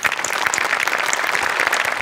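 Steady, dense applause from a studio audience at a Marathi comedy show, clapping continuously and evenly for about two seconds with no voice over it.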